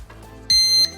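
A Holy Stone HS165 GPS foldable drone gives a single sharp electronic beep during calibration, a steady high tone lasting about a third of a second, close and loud.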